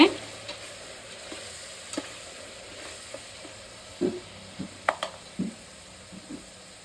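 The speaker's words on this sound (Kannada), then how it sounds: "ಇದು ಎಣ್ಣೆ ಚೆನ್ನಾಗಿ ಫ್ರೈ ಮಾಡ್ಕೋಬೇಕು ಹಸಿಮೆಣಸಿಕಾಯಿ ರುಬ್ಬಿರೋದನ್ನು" Ground green chili paste frying in oil in a pan for a biryani, with quiet background sizzle and scattered spoon scrapes and stirring clicks, a few louder knocks near the end.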